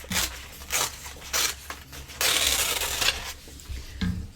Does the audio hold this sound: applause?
no